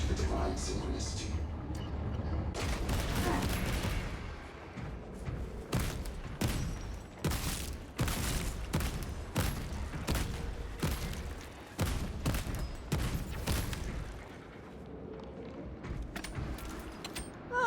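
Video game gunfire cracks out in rapid bursts and scattered single shots, loud and close over a steady low background rumble, with a few short pauses between volleys.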